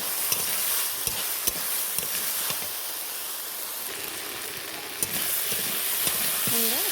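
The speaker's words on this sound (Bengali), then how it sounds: "জল দিলাম, দিয়ে সবজিটাকে আমি কষে নেব" Vegetables with green chillies cooking down in a pan after water is added, a steady hiss and sizzle with occasional spoon clicks against the pan, close and continuous.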